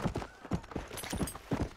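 Horse hooves clip-clop in the Western video game Red Dead Redemption, a quick, even run of soft close thuds in pairs under faint background.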